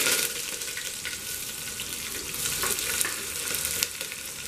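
Curry leaves sizzling in hot oil with mustard seeds and urad dal, a continuous loud crackling fry with sharp spits and pops throughout, no talk.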